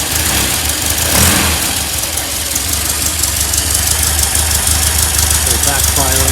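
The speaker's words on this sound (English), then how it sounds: "Backfire on this side." A 1965 VW Beetle engine runs loud and steady close by, a rough rumbling idle with a sharp pop near the start, while voices talk over it.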